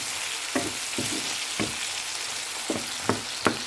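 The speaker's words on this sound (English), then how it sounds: "heat pan with vegetable oil, sauté the garlic, onion, and tomatoes" Garlic, onion and tomatoes sautéing in vegetable oil in a pan, a dense continuous sizzle with a handful of spaced stirring scrapes and taps standing out close and clear.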